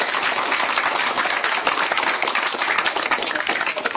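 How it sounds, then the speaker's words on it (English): A lecture audience gives a professor a steady round of applause after a talk on the 2024 US election. Dense, continuous clapping fills the whole stretch with no clear voices. "Let's give him a round of applause."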